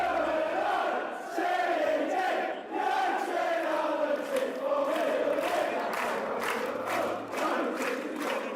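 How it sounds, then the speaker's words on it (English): A drunk soccer crowd chanting in unison, a loud, sustained wall of rough voices with rhythmic shouts and some cheering, roaring steadily throughout. "drunk crowd, absolutely"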